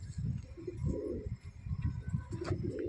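Red racing homer pigeon in a home loft, giving low soft cooing close by, with faint chirps and handling noise behind it.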